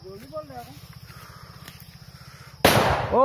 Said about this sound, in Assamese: আমি ফটকা ফুটাব লৈছো এতিয়া